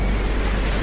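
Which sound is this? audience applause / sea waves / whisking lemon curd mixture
sea waves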